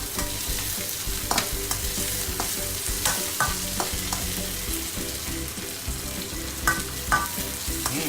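Ginger, garlic and the white parts of green onion fry in hot oil with a steady close sizzle, broken by repeated scrapes and clinks of a utensil stirring the pan.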